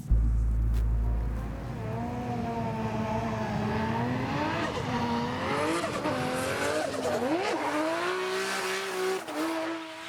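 A professional Nissan S13 drift car drives hard, its engine revving and swinging in pitch over sustained, loud tire squeal that runs throughout with no talk.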